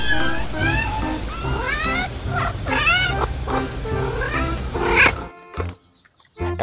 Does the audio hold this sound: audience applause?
no